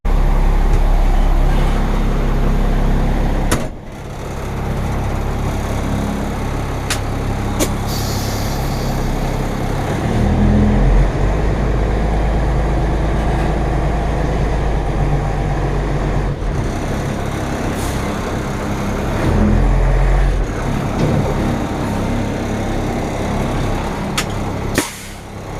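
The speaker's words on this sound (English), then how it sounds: "I'm gonna pull the truck out here into the sun" A fire station truck idles and rumbles as it is pulled out into the sun, a loud low engine drone continuing throughout with a couple of brief dips and air-brake hisses.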